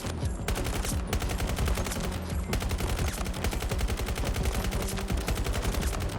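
Automatic rifle with a standard issue magazine in Battlefield 2042 firing rapid, evenly spaced shots in long loud bursts, with brief pauses between bursts.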